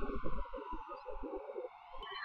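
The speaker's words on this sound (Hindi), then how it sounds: "अरे ये क्या एम्बुलेंस की आवाज" An ambulance siren wails, rising and falling continuously, fairly loud and close, with a low rumbling engine underneath.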